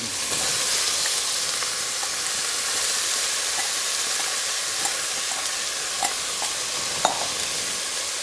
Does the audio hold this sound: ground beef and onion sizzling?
yes